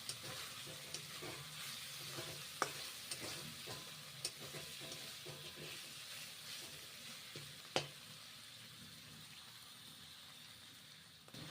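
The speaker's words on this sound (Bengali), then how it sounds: "মশলা কষে নেওয়া হয়ে গেছে" Spices with kasuri methi leaves sauté in a pan in a faint, quiet sizzle, marked by sporadic utensil taps and scrapes, a couple of them sharper and louder.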